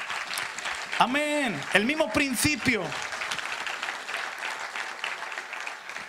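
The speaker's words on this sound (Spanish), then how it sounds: "Denle un aplauso al Señor." Church congregation applauding during a Spanish-language sermon: broad, steady clapping runs through the whole stretch at moderate loudness, with a loud voice shouting over it near the start.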